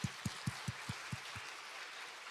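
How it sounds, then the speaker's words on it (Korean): A congregation at a Korean church sermon claps together in a steady rhythm, about seven hand claps about a quarter second apart, fairly faint. The claps then stop, leaving quiet room tone. "박수 한번 합시다, 하나님께"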